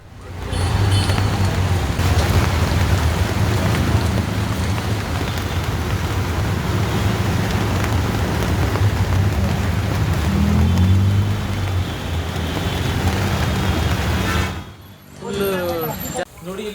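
Heavy rain floods the streets of Bengaluru's HBR Layout, making a loud, continuous rushing wash of rain and water mixed with passing vehicles and voices. It stops suddenly near the end, leaving quieter, scattered noises.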